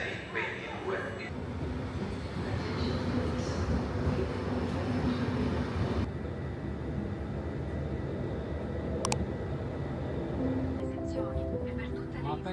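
A regional express train runs in northern Italy, a continuous loud rumble with steady mechanical drone and a sharp brief click midway, while a voice speaks over it near the end.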